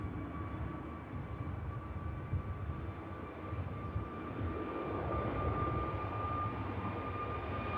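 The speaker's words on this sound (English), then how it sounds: "KLM rotates." A KLM airliner rotates on takeoff at an airport, its engines a steady, distant roar with a thin tonal whine, swelling slightly louder toward the end.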